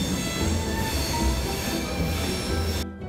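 A passenger train pulls into a station with a sustained, loud metallic squeal from its wheels, a steady screeching drone over rumbling carriages that cuts off abruptly at the end.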